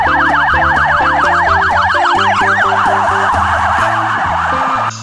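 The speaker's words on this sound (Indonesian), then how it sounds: "Mobil polisi." A toy police car siren wails loud and close, a fast alternating electronic warble over steady repeating beeping tones, running continuously without talk.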